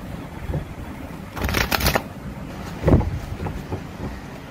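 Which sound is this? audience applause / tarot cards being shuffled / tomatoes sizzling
tarot cards being shuffled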